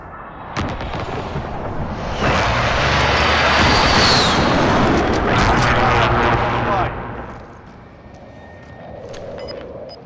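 KAR98 bolt-action rifle gunfire in Call of Duty Warzone, loud sharp shots over a sustained roaring battlefield wash of engines and blasts, fading to quieter ambience near the end.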